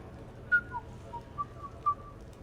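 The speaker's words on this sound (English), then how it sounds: "Are you whistling? That was a poor attempt." A character in the video game Mass Effect 3 whistles a short, wavering tune of several faint, separate notes over a quiet background.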